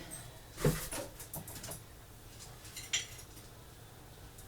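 A metal spoon is lifted from a pile of cutlery in a kitchen, making one sharp clatter of clinking silverware, then a softer clink a couple of seconds later, against a quiet background.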